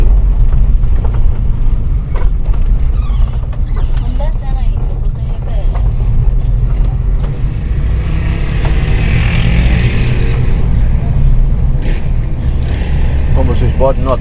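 A Volkswagen Kombi van drives along with a steady low engine drone and shifting mechanical noise, with gear changes in the running sound, loud and close throughout.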